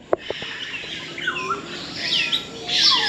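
Birds chirp and squawk at a bird park, with repeated high calls and short tweets over a steady background of chatter from many birds. A few sharp clicks come near the start, and the calling grows louder toward the end.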